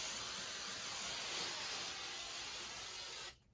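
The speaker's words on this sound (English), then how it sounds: "And the spray, I'm going to add it until I curl every single one." Hair spray hissing from a can onto a wig, a steady soft aerosol spray held for about three seconds before cutting off abruptly, close and alone.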